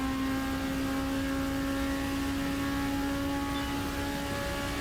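Race car engine in the Assetto Corsa sim racing game during a lap, a steady high-pitched mechanical whine held at constant revs through a corner with no voices.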